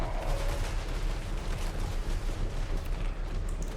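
Dense, continuous volleys of gunfire from ranged units crackle through a fantasy strategy video game battle, a loud unbroken barrage of overlapping shots.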